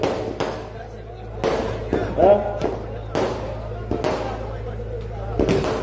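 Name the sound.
firecrackers going off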